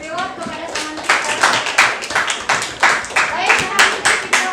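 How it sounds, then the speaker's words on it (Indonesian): Hands clapping in a classroom teaching session, a dozen or so distinct, fairly loud claps in an uneven rhythm, with a voice speaking at the start. "silakan kita beri tepuk tangan ya, reward kepada teman kita"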